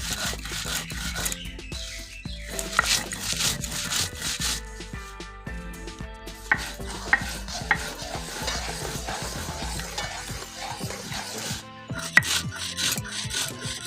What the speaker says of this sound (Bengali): মশলাটা গুঁড়ো করছি